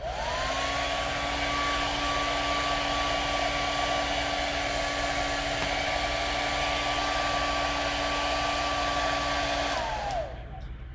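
Hair dryer on high fan speed blowing on clay slabs, a loud steady whine and rushing air held for about ten seconds before it is switched off and spins down.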